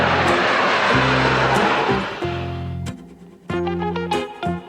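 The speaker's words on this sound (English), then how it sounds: "Ambulance airplane." An ambulance airplane's engine roars loudly at first, then drops back to a quieter, uneven drone with intermittent tonal sounds over the top.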